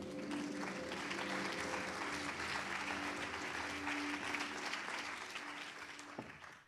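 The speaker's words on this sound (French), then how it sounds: "Les applaudissements, c'est maintenant." Steady applause from a seated audience at a live business event fills the room, a dense even patter of many hands that holds for several seconds before fading out at the end.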